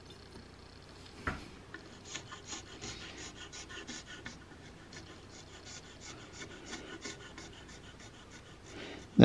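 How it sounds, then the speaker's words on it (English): A narrow steel scraper shaves wood while carving the background of a flintlock muzzleloader stock styled after Isaac Haines, giving soft, repeated rasping strokes at close range with one sharp knock early on and no talk. "That narrow scraper is really nice and cuts really fast"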